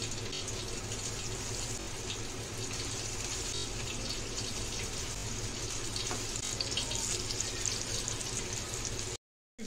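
Soundala fish fries in oil in a tawa on a gas stove, a steady, close sizzling hiss that continues evenly for several seconds before cutting out abruptly.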